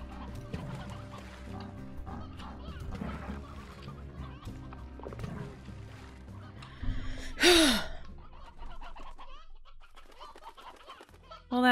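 Chickens clucking in the video game Slime Rancher, scattered fowl clucks over soft game sounds, with a sharp loud squawk or gasp near the middle.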